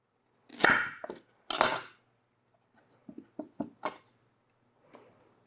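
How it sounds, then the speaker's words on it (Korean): Carrots being cut into thin strips with a knife, heard as a few sharp knocks of the blade on a board, followed by a scattered run of lighter taps, all close and with pauses between them. "당근 채 쓰실 때 너무 얇게 치지 마세요."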